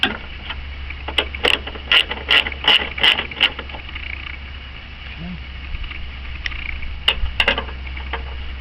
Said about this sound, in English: it's going to be an 8mm socket. Loosen them all up.